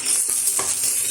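Mixed vegetables frying in a pan, a brief close sizzle with a soft stir or two, heard on its own without speech.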